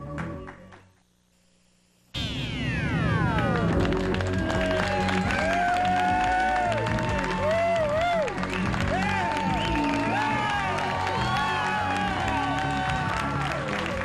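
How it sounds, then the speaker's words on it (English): Loud, sustained studio audience noise with clapping and scattered whoops starts abruptly after a brief quiet moment and continues steadily, with music-like tones running underneath, during a 1988 TV pledge night broadcast. "Keep clapping"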